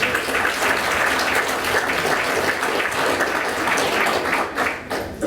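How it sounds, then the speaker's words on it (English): A dense, sustained round of applause from the audience at a county heroin summit, continuous clapping filling the room and tapering slightly at the close. "I think they should deserve a quick round of applause for that"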